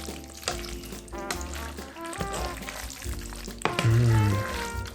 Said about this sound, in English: We add the tomato sauce to the pasta. Let's mix that up. Mix the sauce with the pasta.